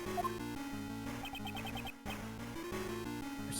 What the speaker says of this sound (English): Her cell phone.